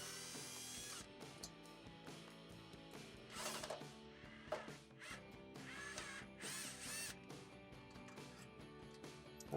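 A power tool drives out the screws holding the gas safety valve on a Whirlpool stove, with faint bursts of whirring over a low background and no speech.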